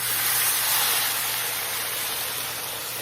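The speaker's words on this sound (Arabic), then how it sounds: "بعدها نخلي له المي" Water pours steadily into a hot pot of fried lamb shank and spices, a continuous broadband hiss and sizzle with a low hum underneath, fairly loud and unbroken throughout.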